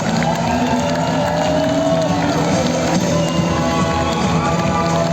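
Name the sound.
audience applauding guests at a press conference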